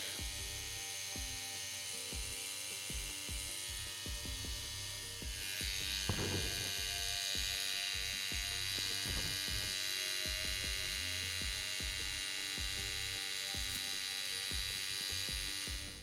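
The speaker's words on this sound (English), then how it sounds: "Right here I have the Ink Claw Dagger tattoo machine." An Ink Claw Dagger tattoo machine runs with a steady, high-pitched electric whine and buzz, continuous and close throughout, with small clicks and knocks over the motor drone.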